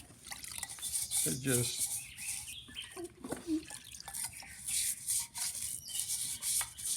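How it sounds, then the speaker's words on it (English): Nylon scrub brush scrubbing the barrel spring parts of a phonograph motor, giving rough, repeated rubbing strokes close up, with some wet dripping and a person speaking briefly over it. "I'll show you here with a scrub brush"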